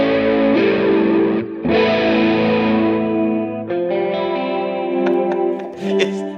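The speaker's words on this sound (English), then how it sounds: "here's a chorus 808." Electric guitar run through chorus and 808 overdrive effects on a Line 6 Helix, a few sustained, shimmering chords and ringing notes with slightly driven edge and wide modulated wash, loud and alone.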